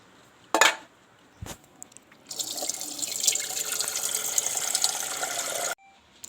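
Water runs into a green cooking pot for plain Maggi noodles at home, a steady pour lasting several seconds after a couple of brief clinks, then cutting off abruptly.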